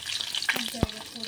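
Cumin seeds and a dried chili sizzle in hot oil for a dal tempering, a close crackling fry with quick pops and one sharp spatter near the middle.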